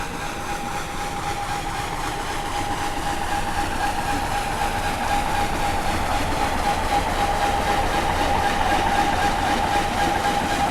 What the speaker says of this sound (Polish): Przybywający okręt wytwarza pod wodą taki dźwięk.